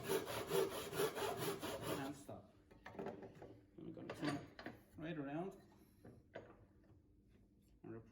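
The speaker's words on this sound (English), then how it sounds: "Don't lean on the saw, let the saw do the work." A hand saw cuts a wooden tenon held in a vise, giving a few close rasping back-and-forth strokes at the start and then scattered scraping, while someone talks over the work.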